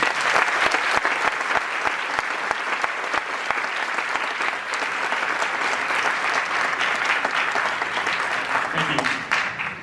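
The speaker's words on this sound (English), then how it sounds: "Can we give them a round of applause, please?" Audience applause at a regional band concert, a steady wash of many hands clapping loudly and continuously throughout, tapering slightly at the very end.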